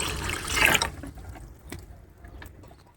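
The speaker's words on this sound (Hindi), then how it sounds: "पतीले में डालेंगे सबसे पहले पानी।" Water splashes into a cooking pot as it is filled for boiling zarda rice, a loud rushing pour near at hand that fades quickly into faint drips and clinks.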